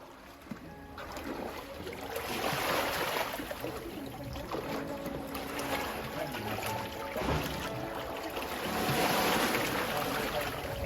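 Sea waves washing onto the Italian coast, a continuous broad rushing surf that swells and recedes, with wind and water noise filling the scene and no talking.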